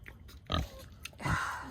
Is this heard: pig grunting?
yes